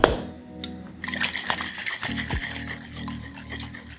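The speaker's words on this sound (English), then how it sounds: "we're going to dry shake for 15 seconds" A gin fizz with aquafaba dry shaken without ice in a cocktail shaker, rhythmic sloshing and rattling strokes of liquid inside the tin, close and fairly loud.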